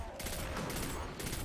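Rapid gunfire with headshots in the video game Destiny 2 on PS4, a dense, continuous burst of shooting that stays loud throughout.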